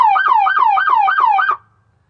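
A loud, close fire rescue vehicle siren in yelp mode pulses rapidly, about five quick rising sweeps in a row, then cuts off into silence.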